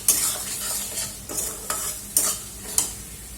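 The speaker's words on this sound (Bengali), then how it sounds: "এটাকে খুব ভালো করে ভেজে দেবো মশলার সাথে।" Fish frying in oil with cumin and coriander powder is stirred in a pan, a steady sizzle broken by about six sharp, regular scrapes of a spoon close by.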